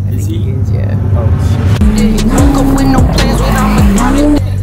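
A Ferrari engine revs hard and loud with repeated rising and falling pitch sweeps, tires squealing and skidding close by in a continuous roar.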